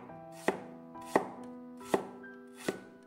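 A knife slicing a piece of fresh ginger on a cutting board, four evenly spaced crisp chops with a ringing board tone, close and clear with no talking.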